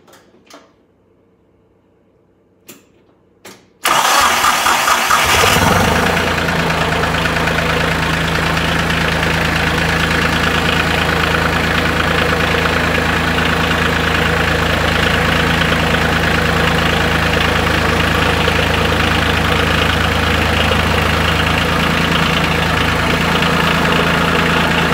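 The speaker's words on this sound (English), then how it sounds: "let's start up the tractor and watch" A Ford 7108 loader tractor engine is briefly quiet with a few clicks, then cranks and fires up, settling into a loud, steady diesel idle with a low rumbling knock that runs on to the end.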